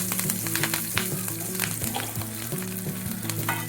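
Green chilies sizzle and crackle steadily in hot coconut oil in a pan, a dense, continuous frying hiss with scattered pops, close and fairly loud, with no talking.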